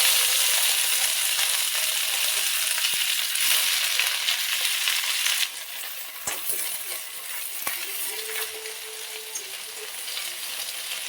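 Susni greens tossed into a pan of oil with red-browned onion and a chilli tempering set up a steady, loud sizzle that softens partway through, with a few sharp spatula clinks and knocks.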